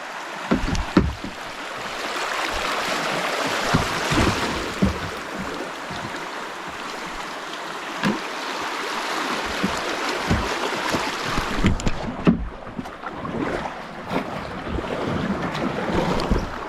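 A boat is paddled down Antietam Creek, its water sloshing and splashing in steady, uneven strokes over constant broadband wind and rushing-water noise close to the microphone.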